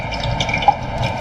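Water drips and trickles off potatoes being shaken dry in a home kitchen, a close, faint patter of droplets with one brief sharper splash.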